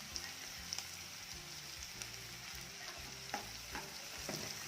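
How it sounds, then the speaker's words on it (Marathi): Chopped onion and garlic fry and get stirred in a pan for dhaba-style dal tadka, a steady crackling sizzle with soft scraping strokes of the spoon, heard close and alone without talk. "लसूण आणि कांदा छान फ्राय होऊया"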